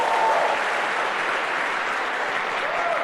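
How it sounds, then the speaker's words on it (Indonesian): Audience applause for a speaker's friend at a talk, a steady dense wash of clapping from a crowd that holds evenly throughout without any voices over it. "tepuk tangan buat teman saya itu, God Lion Bapak Rizky Kanata Bapak Ibu ya"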